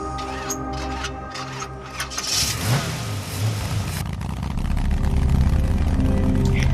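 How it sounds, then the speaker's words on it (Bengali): A motorbike engine turns over and catches, then revs up and settles into a steady, loud running rumble close by. "এই বলে আমি আর শিবু বাইকে চেপে স্টেশনের উদ্দেশ্যে বেরিয়ে পড়লাম"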